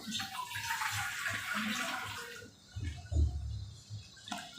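Water splashes and runs steadily into a pot on a gas stove, a continuous close pouring that shifts to a lower, heavier gurgle near the end.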